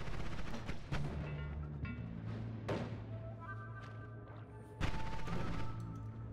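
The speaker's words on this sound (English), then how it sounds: "Was it fireworks? It was. Awful lot of fireworks as well." Fireworks going off in the video game Noita: a run of sharp explosive bangs and thuds with crackling, sizzling tails, several bursts overlapping in a dense, busy mix with no talk.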